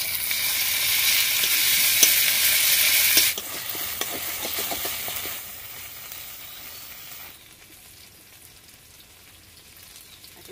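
Coriander paste with dried and green chili pastes fries in a pan, a bright crackling sizzle at first that quiets in steps and settles into a soft, faint hiss with occasional stirring.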